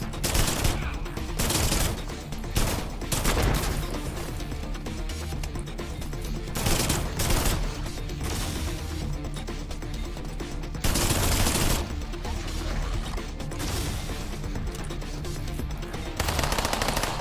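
Enemy gunfire in the System Shock Remaster video game: heavy automatic bursts rattle loudly and continuously, with brief dips between long rapid-fire volleys.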